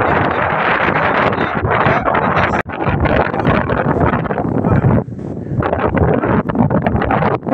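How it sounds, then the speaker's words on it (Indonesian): Strong wind buffets the microphone outdoors at a rocky stone garden, a loud constant roaring rumble broken by a brief dropout and a few gusty surges. "Anginnya kenceng banget, takut ke bawah angin."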